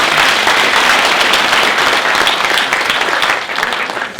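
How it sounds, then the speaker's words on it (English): A symposium audience at a STEM festival gives its panelists loud, dense applause, many hands clapping close and continuously before easing slightly at the end. "Can we give a round of applause to our panelists?"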